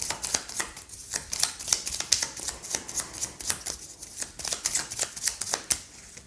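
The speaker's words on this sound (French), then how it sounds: "Je vais ici prendre le petit Lenormand et on va prendre 3 cartes dessus" Lenormand cards are shuffled in quick, crisp bursts of papery riffling and flicking, close and fairly quiet, with no talking.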